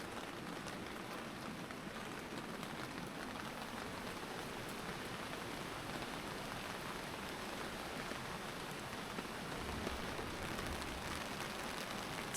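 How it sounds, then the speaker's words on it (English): Heavy rain falling on an ultralight tent while camping, a dense, steady patter and hiss of drops on the fabric, continuous and close, with no voices. "Started raining heavily."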